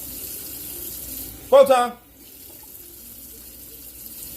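Tap water runs briefly into a kitchen sink while cooking, a short close splashing gush of about half a second, then stops, with quiet room noise and a few spoken words around it.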